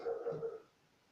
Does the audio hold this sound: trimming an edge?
no